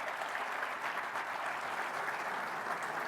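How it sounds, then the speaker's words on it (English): Steady applause from an audience at a 2016 mental health event in Fargo, welcoming panel guests including a police chief; a dense, even roar of many hands with no talking. "if you give them all a big round of applause"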